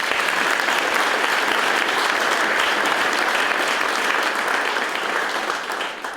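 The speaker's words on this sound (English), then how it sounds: "All right, round of applause for these guys." Loud, sustained round of audience applause from a large crowd, thick continuous clapping that stays strong for several seconds before starting to taper near the end.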